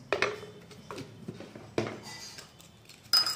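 Sweet chilli mixture snack is tossed in a bowl, giving a few light, close clinks and scrapes in an uneven rhythm.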